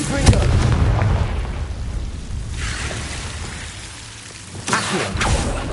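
A Confringo spell explodes in Hogwarts Legacy on PS5. A loud blast opens, then crackling, rumbling debris fades, and a second burst follows near the end, under a game soundscape.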